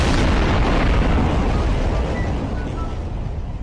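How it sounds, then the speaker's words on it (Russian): A video game explosion in Garry's Mod, a loud broad blast that rumbles and crackles, then fades slowly over a few seconds. "Это эпически будет взрыв."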